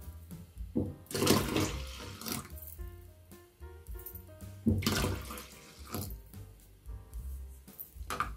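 Water poured into a container while mixing a homemade bathroom cleaner of dishwashing detergent and 600 ml of water, coming in two splashing, gurgling surges with quieter trickles between, close and without talk.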